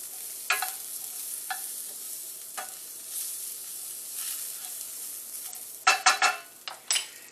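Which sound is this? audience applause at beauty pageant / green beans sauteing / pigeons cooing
green beans sauteing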